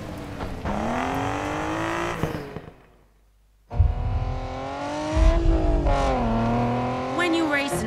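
A racing car engine in the Need for Speed Payback video game roars and revs loudly, with pitch rising through gear changes; it drops out briefly, then returns at full acceleration, with tire squeal and a voice talking over it.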